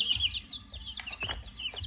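Young black-tailed Pradu Hang Dam chicks cluck and cheep around a home yard, a busy cluster of close, high chirps and short clucks in quick irregular bursts, with no one speaking.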